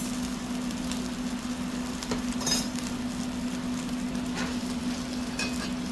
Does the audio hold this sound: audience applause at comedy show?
no